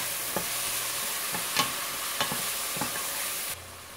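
Ginger garlic paste fries in hot oil with a steady sizzle, broken by about four regular scraping stir strokes before the sizzle abruptly softens.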